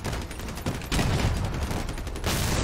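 Fidget machine guns mounted on a limo truck fire in Crossout, a dense, continuous rattle of rapid shots that swells into louder bursts.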